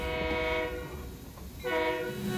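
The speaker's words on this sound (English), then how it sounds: "It's a 1924 built Baldwin steam locomotive." A 1924 Baldwin 2-8-2 Mikado steam locomotive on a California railroad sounds a chime whistle twice, two sustained harmonic blasts separated by a short gap over low mechanical rumble.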